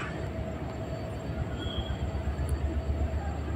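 An intercity train on the Dhaka–Chittagong line standing at a station platform, with a steady low rumble and faint metallic hiss, no voices over it.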